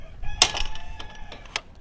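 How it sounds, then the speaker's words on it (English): A rooster kept in a farm pen crows in a short, fairly faint burst, followed by a few scattered clucks. "He's a very nice rooster, so he's actually in a pen so he has his own family now"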